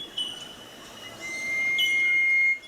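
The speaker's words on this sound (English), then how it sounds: "Australian bird that sounds like a whip." An Australian bird with a whip-like call gives thin, high whistles that build into a long sustained tone, then ends in a sudden sharp upward snap, heard at moderate distance over faint background hiss.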